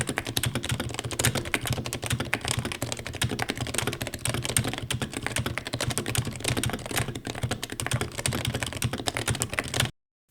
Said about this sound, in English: Typing into this heavy aluminum block isolates the feeling of each keystroke, and the sound, it's like the LFA of Topre.